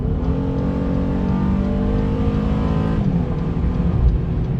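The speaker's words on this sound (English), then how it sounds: "You can definitely hear that engine." A 2022 Honda Ridgeline's engine drones steadily while accelerating on a highway, with rising harmonics and a brief dip around a gear change, loud and continuous from inside the cabin.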